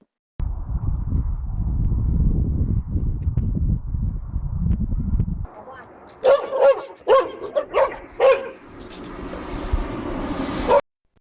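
A dog held under control about four metres away barks in several sharp, loud bursts, following a long stretch of steady low rumbling noise.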